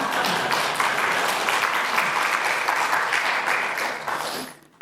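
A church congregation breaks into loud, dense applause that holds steady for several seconds, then quickly dies away.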